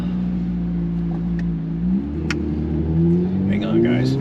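A Corvette's engine revs and accelerates nearby, a steady droning growl that climbs in pitch, drops sharply through a gear change and rises again, heard from inside the car with occasional voices.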